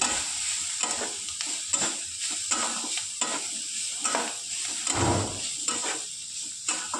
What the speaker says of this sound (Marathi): छान शेंगा परतल्या गेल्या.